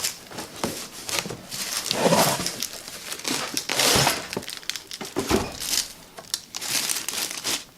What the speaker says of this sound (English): So I'm going to throw all the styrofoam in the box